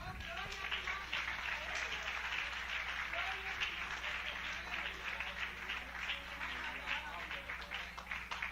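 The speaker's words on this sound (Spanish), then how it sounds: "Dale un aplauso al Señor." Congregation clapping during a Spanish-language Christian sermon, a sustained wash of applause lasting several seconds, with voices mixed in underneath.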